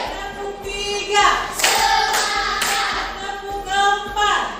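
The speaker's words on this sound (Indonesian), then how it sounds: "Tepuk 1, tepuk 2, tepuk 3," A class of schoolchildren claps a counted pattern in bursts, several sharp group claps of rising number with short pauses between, close and loud, with some voices mixed in.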